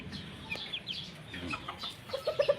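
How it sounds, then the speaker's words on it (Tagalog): Roundhead chicken chicks peeping nearby, quick high chirps scattered throughout, ending in a rapid run of louder clucking peeps, with soft background noise. "Sisiw pa lang, matikas na."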